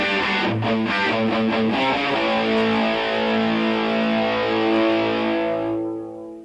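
Heavily distorted electric guitar plays a slow, sustained lick of a few notes with dense harmonic overtones, then fades out near the end.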